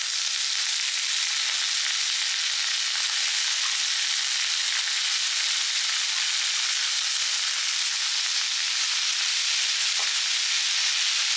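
Keerai greens sautéing with shallots in a hot pan give a steady, loud hissing sizzle close by that barely changes, with one faint knock near the end and no voices.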